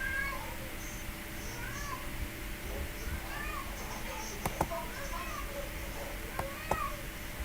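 A cat gives repeated short meows over a noisy background, with a few sharp clicks near the end and no talking.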